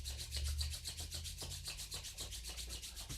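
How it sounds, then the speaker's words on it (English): Palms rubbing together in a quick, steady back-and-forth rhythm, a close dry swishing friction repeated about a dozen times during a yoga session, with no talking. "Let's rub the palms together."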